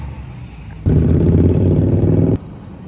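A vehicle with no exhaust fitted passes on an Oklahoma road, a sudden loud, raw engine roar that holds for about a second and a half and then cuts off sharply.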